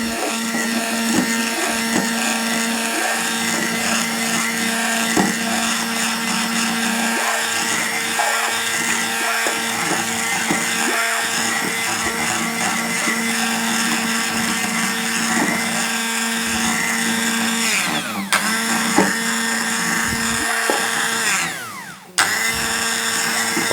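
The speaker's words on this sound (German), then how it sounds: "dann nehmen wir einen Mixer, gehen dann rein" A kitchen blender, apparently failing, runs continuously while mixing salad dressing, giving a loud, steady motor whir with a brief dip and a sharp jolt near the end, and no speech.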